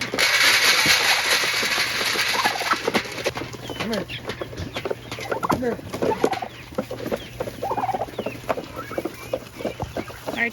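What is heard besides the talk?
turkeys gobbling excitedly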